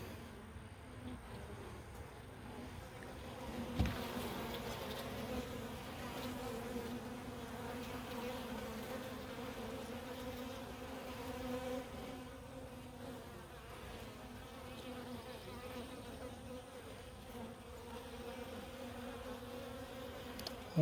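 Honeybees buzzing steadily around an open Tanzanian top-bar hive, a continuous droning hum that holds at a moderate, even level with a faint knock partway through.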